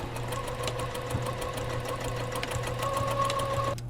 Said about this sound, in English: So add a little straight stitch right here, right on top of that serge seam where both elastic pieces are serged together.